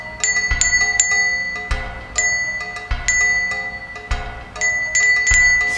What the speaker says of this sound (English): Ooh, it's a bell.